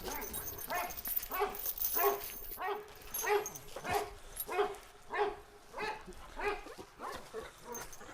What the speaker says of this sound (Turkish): Bike dişi bir köpek.